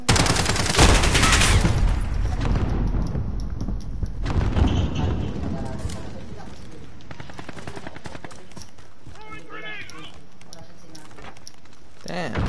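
Rapid bursts of Striker shotgun fire in Call of Duty Modern Warfare on the Shipment map, loud and dense at first with booming blasts, then thinning into scattered shots and game effects.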